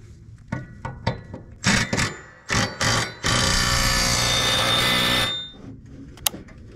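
A power impact wrench buzzes in several short bursts, then runs in one long whirring burst as it tightens a lawnmower blade bolt.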